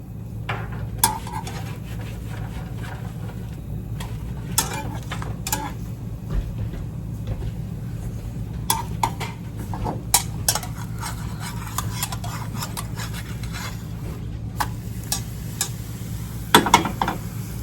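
A crepe cooks in a pan, giving a steady low hiss under scattered light clicks and scrapes of utensils against cookware, close and fairly even throughout.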